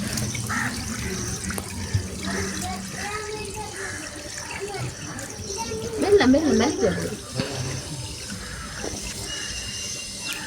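Water runs steadily from a tap throughout, splashing into a basin while people talk over it in Tamil.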